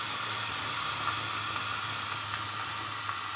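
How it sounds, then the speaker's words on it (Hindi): A pressure cooker letting off steam in a loud, steady hiss as air is released bit by bit while cooking a Pakistani meat and potato curry, close and continuous. "तो ये मैं बस ऐसे थोड़ी थोड़ी सी ये हवा निकालती जाऊंगी।"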